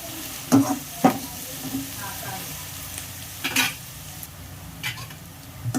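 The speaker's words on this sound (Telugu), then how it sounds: "ఎర్రగడ్డలు బాగా మనకి లైట్ కలర్లో బ్రౌన్ కలర్లో బాగా వేగిపోవాలండి" Chopped onions fry in a pan until light brown, a steady sizzle broken by several sharp scrapes and clatters of a spoon stirring, close and fairly loud with no talking.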